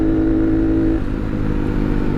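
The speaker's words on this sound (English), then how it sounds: "this thing still has a really nice throaty sound to it" A Honda Monkey motorcycle fitted with an OVER Racing exhaust rumbles close and loud with a throaty tone, one brief rev fading back toward idle.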